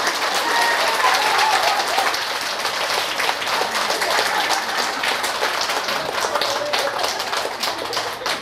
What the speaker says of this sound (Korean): 더블로 쳐주세요